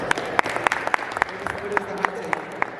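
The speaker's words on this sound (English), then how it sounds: "Y'all clap it up for her." Small studio audience clapping on a hot-takes talk show, a scattered, uneven patter of hands with sharp individual claps standing out, mixed with voices talking over it.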